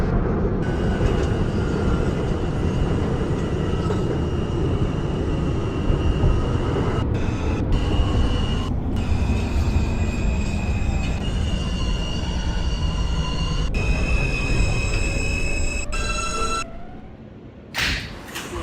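Loud, steady rumble of an R subway train running in the openBVE train simulator, with rolling wheel noise and high whining tones and squeals, ending in a brief dip as it slows near the end.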